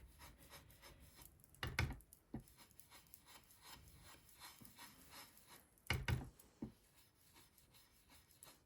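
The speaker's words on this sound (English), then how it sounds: "you can hear me scrubbing, which is not what you're supposed to be doing" An ink blending tool scrubs on paper during a stamping craft session, making soft, faint rubbing strokes in a steady back-and-forth rhythm, with a few louder scuffs standing out and no talk.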